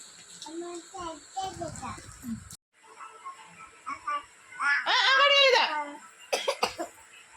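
A child coughs in several rough bursts, with voices and a few higher animal-like cries nearby.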